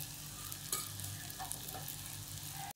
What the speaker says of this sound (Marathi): आता हे परतून घ्यायचं चांगलं. थोडीशी हळद आणि थोडंसं लाल तिखट.